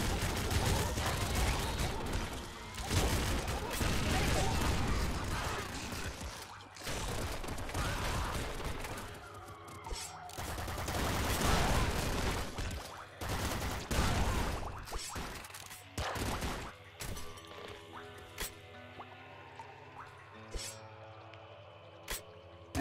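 Rapid bursts of gunfire from an outlandish weapon in the top-down shooter Nuclear Throne, a dense near-continuous barrage of shots and impacts that breaks into scattered bursts with short pauses.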